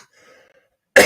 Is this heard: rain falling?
no